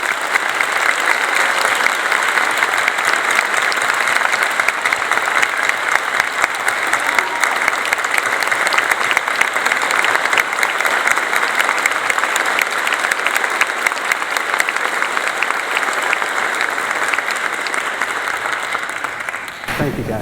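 A large audience at a general assembly applauds students, a loud, dense, sustained clapping that fills the room without a break for about twenty seconds.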